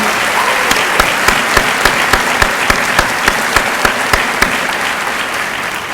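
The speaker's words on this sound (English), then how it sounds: "How about a big round of applause for our student musicians, our orchestra, Pat Miller and Allison" A graduation audience applauds student musicians and their orchestra, dense loud clapping from a large crowd, with a few distinct rhythmic claps standing out near the front throughout.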